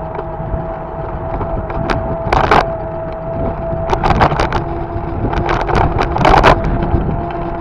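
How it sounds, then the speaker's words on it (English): Engine drone and heavy wind buffeting while riding a Cyborg Alpha vehicle outdoors, a steady loud rumble with gusty bursts of wind noise rising and falling throughout, no talking. "my voice is heard above the noise of the engine and the noise of the wind"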